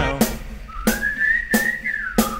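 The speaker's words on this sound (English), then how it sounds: "Come on, everybody, and whistle the tune right now." A single clear whistled melody line, sustained and gently wavering in pitch, over a steady rhythmic beat of four sharp, evenly spaced percussive hits from a song played alongside.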